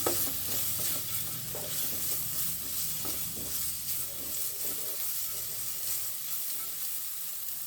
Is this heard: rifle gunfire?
no